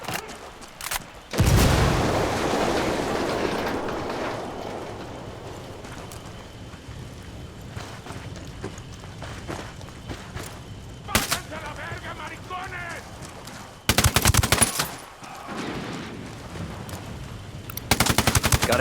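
Gunfire and explosions in Ghost Recon Wildlands, with loud blasts and bursts of automatic fire separated by quieter stretches, and voices talking in between.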